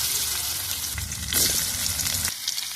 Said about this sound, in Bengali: এই তেলের মধ্যে এবার আলুগুলো দিয়ে দেবো